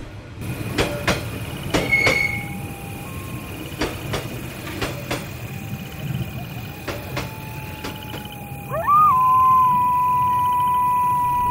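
A cartoon train runs with sharp metallic clacks at irregular intervals, a long squealing tone rising near the end, over a low rumbling bed.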